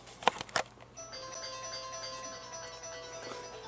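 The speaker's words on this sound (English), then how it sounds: "That is the phone." A couple of sharp knocks, then a phone rings with a steady electronic tone, fairly faint, alone in a quiet room.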